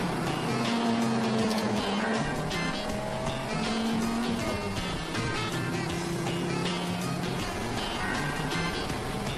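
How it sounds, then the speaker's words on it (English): A Lotus Elise 111S laps a race track through a hammerhead corner, its engine loud and continuous with shifting pitch as it brakes and accelerates, tires squealing faintly through the turn. "This corner was designed by Lotus, so the Elise should be good through here, and it is."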